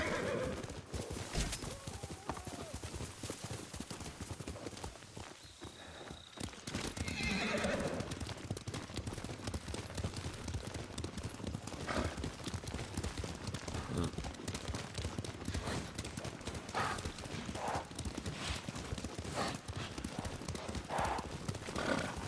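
Horses gallop with rapid clip-clopping hooves and let out whinnies in the Ghost of Tsushima video game, the hoofbeats running continuously alongside outdoor ambience and a faint bird call.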